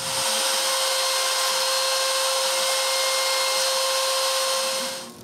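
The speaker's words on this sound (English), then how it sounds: "Then with the CNC, I cut two square holes." A CNC machine cuts square holes into wood, its steady high whine and cutting noise loud and unbroken for about five seconds before winding down.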